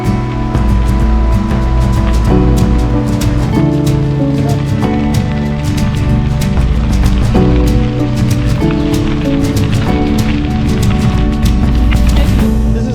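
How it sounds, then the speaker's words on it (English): Loud, continuous rushing river water flows close by, a dense steady wash of splashing with no voices. "one of those trails now along the river with the sound of it"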